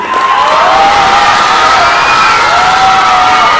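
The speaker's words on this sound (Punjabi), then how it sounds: "ਤਾੜੀਆਂ ਤਾਂ ਬਲੂ ਦੀਆਂ ਭਾਰੀਆਂ ਨੇ" A crowd at a boxing fight night clapping and cheering for the blue-corner boxer, a loud dense roar of cheers, whoops and shouts filling the space without a break.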